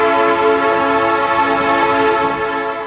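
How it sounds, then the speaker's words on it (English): A train passing close by and sounding a loud, steady, sustained horn tone for about three seconds, with no voices over it. "Daddy Pig has to stop while the train whizzes past."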